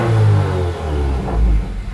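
A 2015-2018 Subaru WRX with a Perrin header revs twice, rising and falling loud and close, with a few faint crackles near the end of the second rev.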